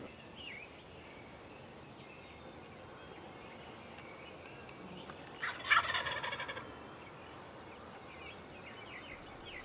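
A wild turkey gobbles once at mid distance during a spring turkey hunt on farmland, a short rattling burst standing out over quiet outdoor ambience with faint rustling.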